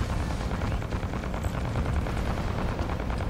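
Spaceship weapons fire in Fractured Space, a steady, dense roar of rapid gunfire and booming rumble that stays loud and unbroken throughout.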